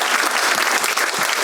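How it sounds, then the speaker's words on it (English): Audience at a FireWise panel discussion applauds the support panel: dense, steady clapping from a room full of people, close and even throughout with no pause. "give our support panel a round of applause"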